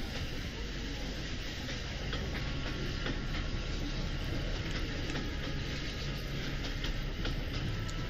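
Steady rumble and clatter of a train crossing Greece in the Blake & Mortimer video game, a continuous rolling drone with faint rhythmic clicks running evenly throughout with no talk.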